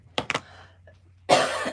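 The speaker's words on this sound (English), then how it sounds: "Had a little bit of a summer cough." A woman gives two quick close coughs, then a brief pause before a louder rustle or breathy noise; a mild summer cough, no talking.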